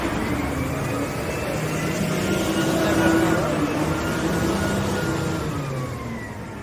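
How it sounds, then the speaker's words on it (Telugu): A bulldozer loads trucks at a rainy loading site, its engine a steady, loud rumble that swells in the middle and eases off, heavy machinery noise close by without clear talk over it. "ఇదిగోండి డోజరు, దీంతో లోడ్ వేస్తున్నారు అనమాట"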